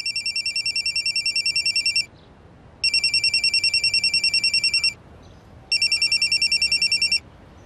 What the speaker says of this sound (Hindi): अगले दिन सुबह निखिल को फोन तो आया